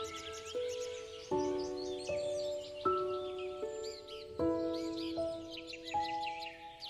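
Birds sing in a calm natural setting, sending a clear run of repeated melodic whistled notes in a steady rhythm, with fainter chirps from other birds behind them.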